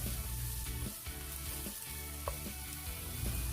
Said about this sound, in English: Add the mushrooms and saute until tender, about 2 minutes